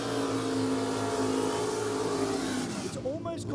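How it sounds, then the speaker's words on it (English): A Torana drag race car with a high-revving, naturally aspirated motor roars loudly and steadily at an NPRA drag race meeting, then its pitch drops and wavers as the revs fall off near the end. "I love the sound of this Torana."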